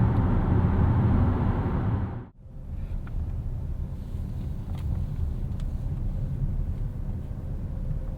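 Steady road and engine rumble fills the cabin of a 2022 Chevrolet Blazer RS on the move. It is loud at first, then drops suddenly to a quieter, even hum that carries on to the end.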